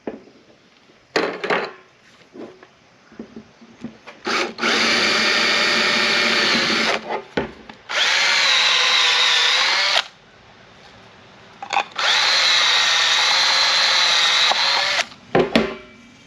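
A power drill whirs loudly and close in several long bursts, drilling a hole for a valve in an automatic chicken waterer, separated by short pauses and brief clicks and handling sounds.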